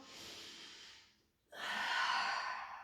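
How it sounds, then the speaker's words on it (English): A slow yoga breath during a plank-based tabata workout: a long audible inhale, a brief pause, then a fuller, louder exhale, close to the mic with no talking. "breathe in, and breathe out"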